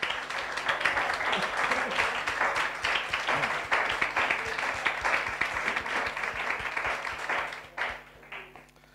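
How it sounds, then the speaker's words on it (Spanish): A church congregation applauds during a sermon, dense sustained clapping filling the room for about eight seconds before fading near the end, with some voices mixed in. "Un aplauso"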